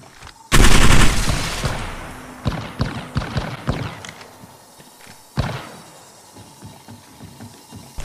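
Gunfire in the Apex Legends Mobile game, opening with a loud blast, then a run of sharp rapid shots that fade to scattered reports, with no talk.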